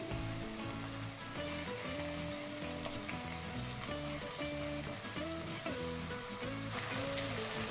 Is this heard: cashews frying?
yes